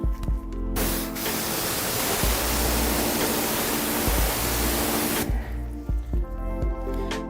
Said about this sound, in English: then you can rinse that area out